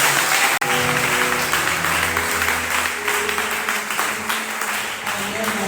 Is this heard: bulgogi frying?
no